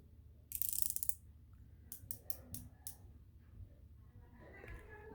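Vincero Outrider watch bezel being turned counterclockwise, giving a quick series of crisp ratcheting clicks close up, with a brief scrape before them and quiet handling noise around them.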